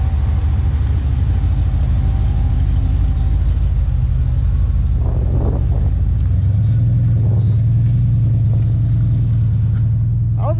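Heavy full-size street truck at a truck-racing event, its engine running with a steady low rumble and a deeper note rising partway through, loud and close, no talk.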